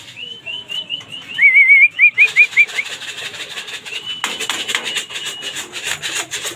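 Young racing pigeons on a training flight pass nearby, their wings making rhythmic fluttering beats, with whistle-like chirps early on before the flapping grows dense and steady.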